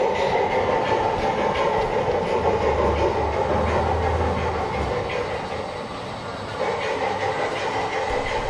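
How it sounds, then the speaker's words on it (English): A miniature train runs steadily on a restaurant's model railway layout delivering orders, with a continuous rumble and light rattling. It carries on without pause, with a brief dip in loudness near the end. "They have their own railway layout, and they deliver your orders by these mini trains"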